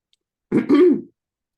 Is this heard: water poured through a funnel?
no